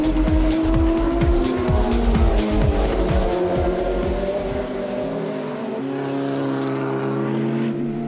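Race cars at the Nürburgring 24-hour race roar past loudly, engines rising and falling with tire squeal, then a steadier engine drone continues from further off.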